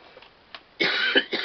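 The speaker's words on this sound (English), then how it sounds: "And I apologize for my coughing." A man coughs during a spoken review of a horror DVD collection: a few soft, faint throat sounds, then a loud, close burst of harsh coughing followed by two shorter coughs.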